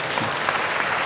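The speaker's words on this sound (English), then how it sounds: "Somebody give God a mighty clap offering." Congregation clapping in a church service, a dense, steady wash of applause lasting about a second with no break.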